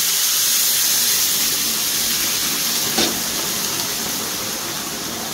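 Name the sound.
hot water poured onto fried rice, bubbling and hissing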